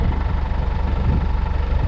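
A Land Rover Perentie engine running steadily at idle after start-up, a loud, even low rumble with a constant throb and no voices.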